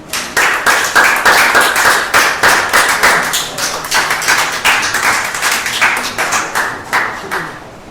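Rhythmic, loud clapping from an audience after a poetry performance at a fundraiser and art show, hands beating in a steady, synchronized pulse close by.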